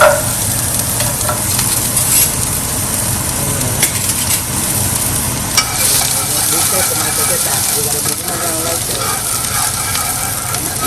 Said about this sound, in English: The oil is already ready hot. Put the onions here.